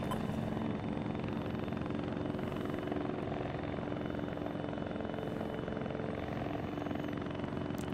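Helicopter in the military video game Arma 3, a steady loud rotor drone with a continuous engine whine filling the whole stretch, no talk over it.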